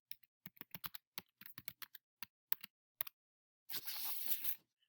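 Typing on a computer keyboard, a quick irregular run of close, crisp key clicks with small gaps, ending in a short burst of louder, steady clatter.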